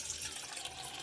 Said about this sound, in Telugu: మనం ఇప్పుడు స్టవ్ మీద ఒక గిన్నె పెట్టుకుని ఆ గిన్నెలో 1 గ్లాస్ వాటర్ పోసుకుందామండి